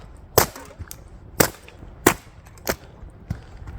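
Empty aluminium beer cans crushed one after another on a summer road trip, five sharp metallic crunches spaced about a second apart, close and fairly loud with no talking.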